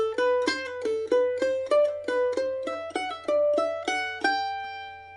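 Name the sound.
mandolin exercise with triplet pull-offs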